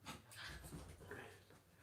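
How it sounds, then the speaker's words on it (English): Dogs wrestle off to one side indoors, with faint whimpers, yips and panting breaths mixed into a low, muffled background. "The dogs are wrestling over here off camera."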